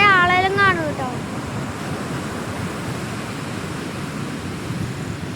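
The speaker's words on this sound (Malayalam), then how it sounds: "ഇതാണ് കടൽ." Sea waves at a beach roll in as a steady, full rush of surf mixed with wind noise on the microphone, preceded by a brief wavering voiced sound at the very start.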